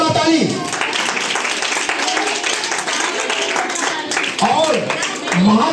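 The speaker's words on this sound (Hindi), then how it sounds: "उन बच्चों के लिए एक बार जोरदार ताली" Clapping breaks out for the children at a school's annual function, a dense patter of many hands that swells at the start and end while a voice talks over it.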